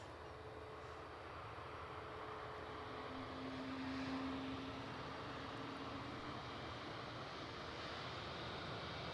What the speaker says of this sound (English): British Airways just pushing back for a departure.